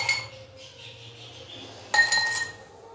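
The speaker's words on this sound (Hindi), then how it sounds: "अच्छे से मिक्स करने के बाद अभी सर्व करने के लिए ग्लासेस के अंदर बर्फ़ डालेंगे।" Ice cubes clink and rattle into drinking glasses while a mango squash drink is being prepared, a cluster of bright glassy clinks at the start and a louder burst of tumbling, chiming ice near the end.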